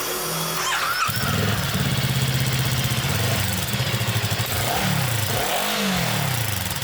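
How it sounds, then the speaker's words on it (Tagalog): A Voge 500R parallel-twin motorcycle on its stock exhaust starts up and revs, loud and close: a deep, pulsing burble that rises and falls through repeated throttle blips, with no talking. "if you are into the more macho sound of the parallel twin engines, here is a sample of their stock exhaust"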